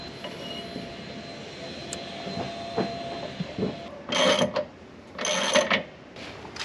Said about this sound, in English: there's always that nice hum. Vacuum cleaner going on.